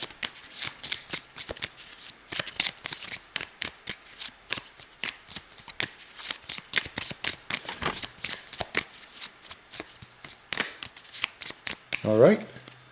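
A deck of cards for a solo board wargame is shuffled repeatedly, with quick riffling bursts and soft snaps in a steady rhythm, close up; a voice speaks briefly near the end.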